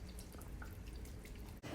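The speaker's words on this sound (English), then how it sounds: "you want about 100 ml of soy sauce. Just pour it in." Soy sauce, about 100 ml, poured into a hot pan with the heat just switched off while making honey chilli chicken; a faint, steady dripping trickle of liquid fills the short moment without talk.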